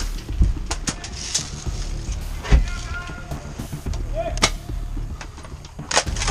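Airsoft guns firing during an outdoor airsoft game, sharp close and distant pops scattered irregularly throughout, with players shouting and talking over the shots.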